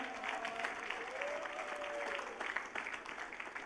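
A church congregation claps steadily together during a sermon, a dense wash of hand claps lasting a few seconds with a faint held tone underneath.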